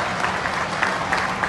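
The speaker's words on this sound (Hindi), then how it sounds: "एक बार सब लोग खड़े होकर जोरदार तालियां बजा दीजिए पूरे परिवार के लिए।" Dense, steady applause from a large standing crowd, continuous clapping with no breaks.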